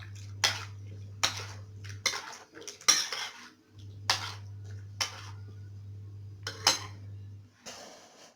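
A spoon clinks and scrapes around a bowl as ingredients are mixed, irregular close knocks over a steady low hum, no talking.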